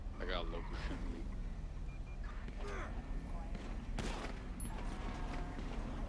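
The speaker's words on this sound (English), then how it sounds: "I got a local shooting me." Gunfire in GTA V on a NoPixel roleplay server, with scattered sharp shots and a burst standing out midway, partly buried under people talking.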